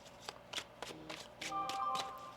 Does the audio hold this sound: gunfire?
no